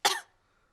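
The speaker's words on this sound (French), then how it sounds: "Mais regardez ce qui se passe quand je tousse." A cartoon pig gives one short, breathy cough up close, fading within a quarter second into silence.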